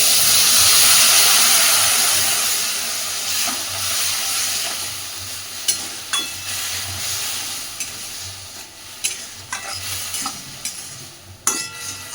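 Water poured into a hot pan of bitter gourd, giving a loud burst of steam and sizzling hiss that fades into quieter frying with scattered spatters and clinks of stirring.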